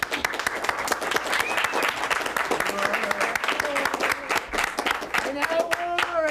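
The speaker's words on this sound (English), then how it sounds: "Let's have a round of applause for Mr." A television studio audience on a talk show gives a round of applause, with dense, lively clapping and scattered voices talking over it.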